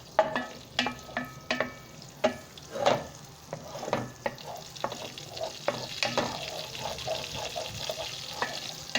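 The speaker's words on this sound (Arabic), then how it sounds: "هنا هنحمر التوم مع بعض كويس جدا عشان نعمل بقى التقلية بتاعت الايه، الفتة" Garlic frying in rendered duck fat for Egyptian fatta, with stirring scrapes and clatters of a utensil in the pan over a steady soft sizzle, close and fairly quiet.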